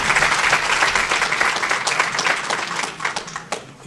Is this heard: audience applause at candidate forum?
yes